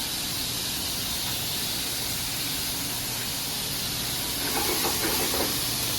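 Thin-cut steak with onions and peppers sizzles in a pan with a little vegetable oil, a steady close hiss that holds throughout and swells slightly near the end.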